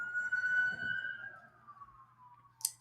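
A single siren wail, moderately distant, sweeping slowly downward in pitch and fading out, with a short sharp click at the very end.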